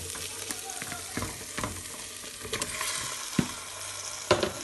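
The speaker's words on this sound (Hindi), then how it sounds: "आतां दुकरा मास घालता. हो बरो फ्राय जाला." Pork for adobo sizzling and frying in a pan, a steady crackle broken by several sharp scraping stirs and clatters of a utensil, close and moderately loud with no talking.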